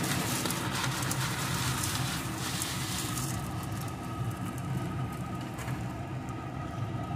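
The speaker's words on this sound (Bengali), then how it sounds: "এখন ঘিয়ের সাথে সুন্দর করে এটাকেও ভেজে নেব" Vermicelli sizzles in ghee in a pan for semai payesh, a steady dense crackling hiss that runs close and even throughout with no voices.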